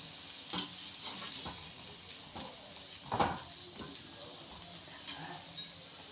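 Soft bubbling and sizzling from a pan of simmering cauliflower curry with occasional light clicks and stirring taps, fairly quiet throughout.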